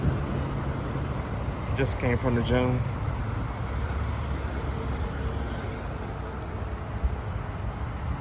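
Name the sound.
rush hour road traffic noise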